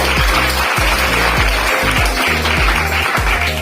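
Loud, dense applause from a business seminar audience runs steadily throughout, with low musical tones pulsing underneath.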